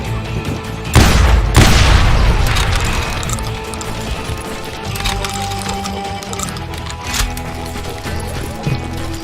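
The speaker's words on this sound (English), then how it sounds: "They're shooting in the street." Loud gunfire in a town street in the video game Call of Juarez Gunslinger, a heavy booming blast followed by sustained crackling shots and clatter that slowly fade, with a few sharper cracks later.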